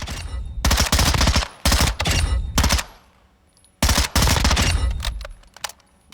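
A weapon in Call of Duty Modern Warfare II fires in full auto and burst, loud close strings of rapid shots in several separate runs with short pauses between them, then a few isolated shots near the end.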